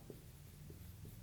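Writing on a board during a maths lesson: soft, faint strokes in a few brief scratches, close but very quiet over a steady low hum.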